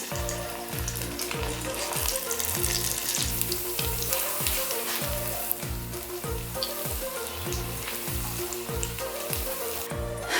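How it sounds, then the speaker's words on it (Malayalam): Cauliflower pieces fry in hot oil for Gobi 65, giving a steady, close sizzle with rhythmic stirring and scraping throughout. "ഇനി ഇതിലേക്ക് എണ്ണ ഒഴിച്ച് കൊടുക്കാം. ഇനി നമുക്കിതിലേക്ക് ഈ കോളിഫ്ലവർ നമുക്കിതിലേക്ക് ഇട്ട് കൊടുക്കാം."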